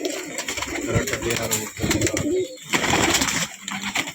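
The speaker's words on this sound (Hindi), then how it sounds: "बेहतरीन कबूतर है मेरे भाइयों, फुल वारंटी के कबूतर है मेरे भाइयों।" Pigeons of a green and bhavra breed line cooing in a loft, a dense, continuous chorus of soft, throaty coos and flutters close by, with someone talking over them.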